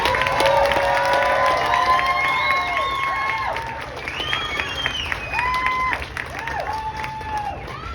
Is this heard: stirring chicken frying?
no